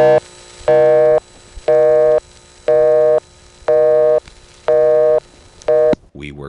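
Busy signal from a Greenville NX1 telephone exchange heard on a 1978–1980 coin phone: a steady on-off tone pulsing about six times at an even rhythm, loud and clear, ending in a brief click.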